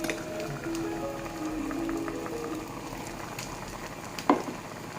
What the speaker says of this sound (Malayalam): ഒഴിച്ചിട്ട് നല്ലപോലെ തിളച്ചിട്ടുണ്ട്.